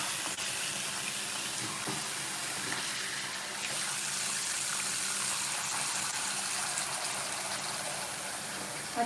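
Tap water pours steadily into a kitchen sink full of dishes set to soak, making a continuous hissing gush. It stays fairly even and close throughout, with no talk.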